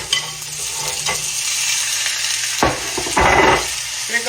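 Meat fries slowly in a skillet turned down low, a loud close sizzle with scraping and stirring sounds, and a sharp burst of spitting as pieces are moved around.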